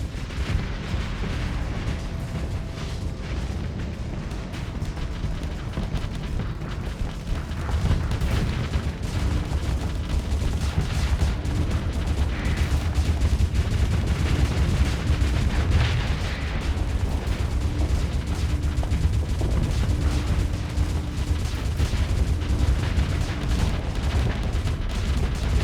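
Torpedoes and weapons fire roll through a Starsector space battle in a video game, a dense, continuous rumble of muffled blasts and booming impacts that swells louder partway through and stays heavy to the end.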